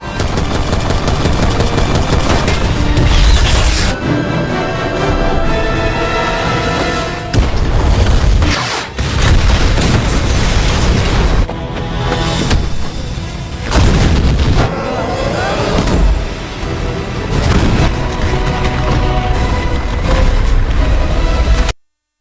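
Dense, continuous film gunfire with heavy booming blasts, a helicopter explosion and bursts of automatic fire, loud and sustained throughout, with brief lulls between volleys.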